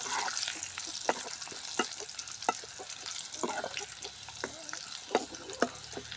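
Cinnamon, dried chili, garlic and curry leaves fry in hot oil for sambar, crackling and sizzling steadily up close, with frequent sharp pops and stirring clicks throughout.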